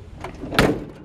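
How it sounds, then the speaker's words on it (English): A door on a 1951 Ford F1 shortbed pickup truck opening and shutting: a soft latch click, then a sharper metallic closing thunk midway, close and fairly loud with no talking. "Doors open and close nicely."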